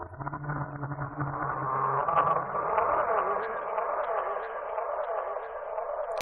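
Sampled Minecraft ghast cry run through a DJ delay preset, a continuous wailing wash whose echoes pile up and smear into a sustained tail, fairly loud with no talk.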